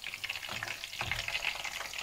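Fish pakoras sizzle and crackle in hot oil, a continuous close frying hiss with a few soft stirring knocks and bubbling bursts, no voices present.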